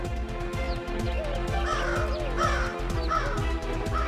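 A crow caws repeatedly, loud and close, its calls sounding over a steady rhythmic rumble in the background.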